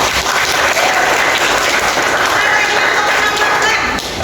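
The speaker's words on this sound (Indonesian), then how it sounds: "Oke, tepuk tangan buat Kamila" Steady applause from a group, a dense wash of clapping that holds for several seconds before tapering off.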